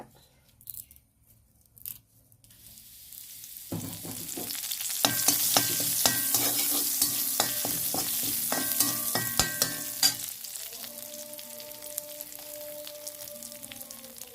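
Curry leaves dropped into hot coconut oil burst into loud crackling spattering that peaks quickly, then settles into a steadier frying hiss with some scraping, close by.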